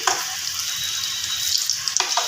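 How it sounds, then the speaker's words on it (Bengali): Three vegetable chops deep-fry in hot oil with a bright, dense, continuous sizzle and bubbling close by, plus a couple of brief clinks near the end. "ভেজিটেবিল চপগুলো ছেড়ে দিলাম তিনটে ভেজিটেবিল চপ আমি এখানে ছেড়ে দিয়েছি"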